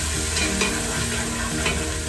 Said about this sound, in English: Give it a few stirs.